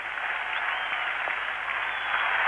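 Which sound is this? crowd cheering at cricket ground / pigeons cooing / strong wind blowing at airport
crowd cheering at cricket ground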